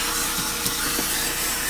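A vacuum cleaner with a small brush attachment cleans around the vents and crevices of a car interior, giving a steady, close whooshing roar with faint scraping and bumping as the brush moves.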